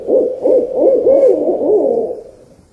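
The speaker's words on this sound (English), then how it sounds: "This is the smoking owl." An owl gives a close, clear run of about six rhythmic hoots in quick succession, alone and then tapering off.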